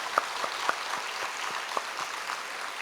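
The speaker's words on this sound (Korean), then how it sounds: "우리 감사의 박수로 영광을 올려드리겠습니다." Applause from a church congregation giving thanks at a 24th anniversary service, heard as a steady, fairly faint patter of many hands with a few sharper claps standing out.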